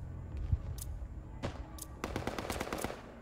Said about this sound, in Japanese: パンパンしてるな。